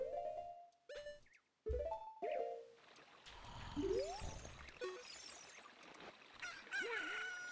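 Rooster crowing in the video game The Legend of Zelda: Ocarina of Time, outside Hyrule Castle, a bright synthesized cock-a-doodle-doo near the clip's end, with game music and clucking chicken sounds throughout.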